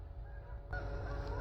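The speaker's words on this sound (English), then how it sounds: "You probably hear the geese in the background" Geese honk in the background near a river, a steady outdoor clamor with no voices, growing slightly louder partway through.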